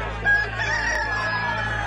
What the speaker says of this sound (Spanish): y cantó un gallo